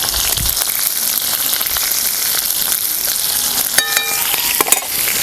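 Continuous sizzling of garlic and green chili sautéing in hot oil in a kadhai, with a few sharp metallic taps near the end, no talking.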